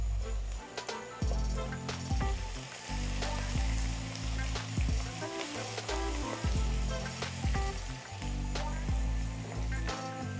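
Green chili, curry leaves and chopped ginger frying in hot oil for jeera aloo make a steady, loud sizzle with crackling pops throughout, no talking.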